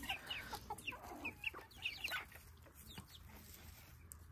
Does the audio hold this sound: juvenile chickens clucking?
yes